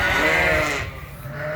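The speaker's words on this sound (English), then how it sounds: "There they go. They're sheep." A sheep on a farm where white sheep and Suffolks with their lambs are being moved gives one long, loud bleat close by, fading toward the end.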